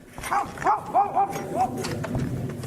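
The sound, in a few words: dog barking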